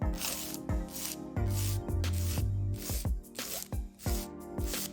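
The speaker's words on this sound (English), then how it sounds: "I am using a 240 grit file, which is the recommended type for natural nails" A 240 grit file rasps across a natural fingernail tip in steady repeated strokes, close up, a dry scratchy rhythm over faint background tones.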